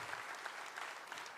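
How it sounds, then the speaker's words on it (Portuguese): A church congregation claps together in steady, sustained applause during a worship service. The sound is dense, even and continuous, with no voices standing out. "Você pode aplaudir o Senhor Jesus?"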